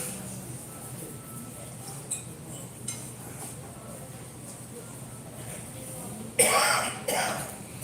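A quiet room with faint clinks, then a couple of sharp coughs near the end.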